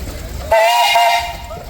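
Steam engine whistle at a steam show: after a low rumble, a loud, close whistle with a bright, steady tone sounds for about a second, then fades into outdoor background.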